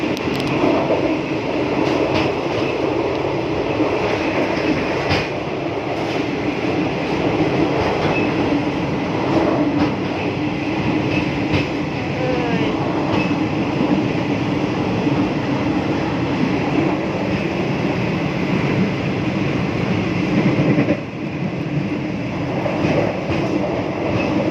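Riding inside a moving passenger train: a loud, steady rumble of wheels and carriage noise with faint rhythmic clicks throughout and a brief dip near the end.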